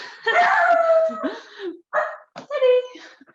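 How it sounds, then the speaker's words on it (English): A dog barks and yips close by in a few sharp, uneven bursts, with a whiny, tonal edge. "now my dog's barking"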